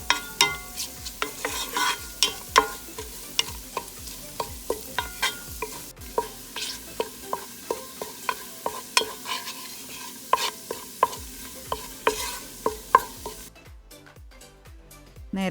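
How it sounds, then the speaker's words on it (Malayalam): Ginger and garlic sautéing in hot ghee for a vegetable pulav, with a steady close sizzle and frequent rhythmic scrapes and clinks of a spoon stirring the pan. Near the end the sizzle drops away and only the stirring remains. "ഇഞ്ചിയും വെളുത്തുള്ളിയും ഞാൻ ചൂടായ നെയ്യിൽ വഴറ്റുന്നു."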